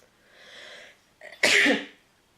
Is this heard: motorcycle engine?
no